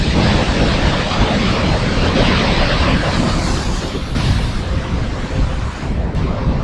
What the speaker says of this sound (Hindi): बहुत बढ़िया वाटरफॉल।